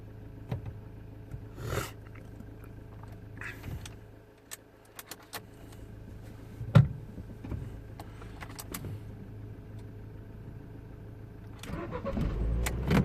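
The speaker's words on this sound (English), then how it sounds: "engine is running" A Ford Fiesta automatic with a transmission malfunction (P0919, stuck in gear) cranks and fires near the end, its engine rising to a steady low running rumble after keys jangle and light clicks in a quiet cabin.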